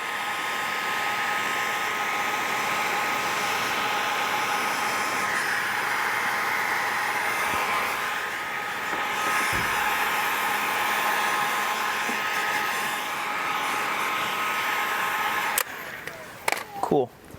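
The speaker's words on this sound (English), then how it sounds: "using a heat gun and a wrap glove" A heat gun blows a steady, loud airflow while warming vinyl wrap against a knifeless tape job, a constant whooshing roar for most of the stretch before it cuts off near the end into brief handling clatter.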